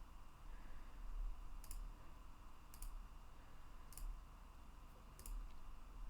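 Four faint, evenly spaced mouse clicks while building a page in the Webflow website builder, crisp and close over a low steady hum, with no talking.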